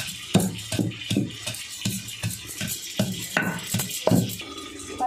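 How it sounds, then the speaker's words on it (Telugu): Green chillies, cumin and garlic being pounded by hand for a Telugu ivy gourd chutney, with a steady run of heavy dull thuds and clacks at roughly half-second intervals, close and loud, with no talk. "దంచేటప్పుడు ఇందులో కొంచెం పచ్చి జీలకర్ర ఒక 5-6 వెల్లుల్లి దెబ్బలు వేసి దంచుదాం"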